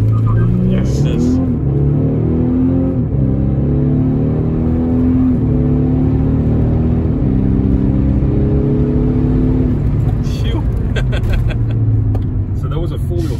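An Audi launches hard from a standstill with all four wheels spinning, its engine roaring loud and close with rising, stepping pitch that eases off near the end, while people talk over it.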